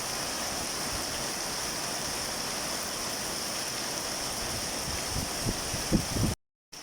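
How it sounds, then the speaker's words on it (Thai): Steady heavy April rain and rushing water roar continuously nearby as a pond fills, a dense broadband wash with a few thumps before cutting out briefly. "น้ำอย่างแรงเลยฝนก็แรงเลย"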